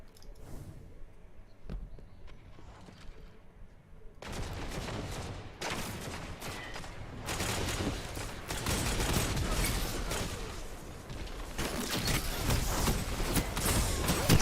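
Rapid gunfire from the video game Destiny 2: Lightfall, starting with a near-quiet stretch, then breaking into loud, dense bursts of repeated shots that carry on almost without pause to the end, with no voices over it.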